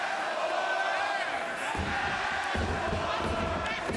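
Wrestling arena crowd at a live AEW event roars and chants continuously, a dense mass of voices with thuds from the ring, while a commentator talks over it.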